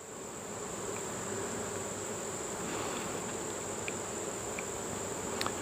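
Honeybees buzz steadily around an open beehive during late summer hive work, a continuous dense drone with occasional closer individual bees passing, no voices.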